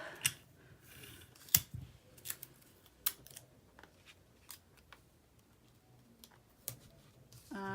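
Paper being cut near washi tape on cardstock during crafting, a series of faint, sparse snips and small clicks spaced irregularly over quiet room tone.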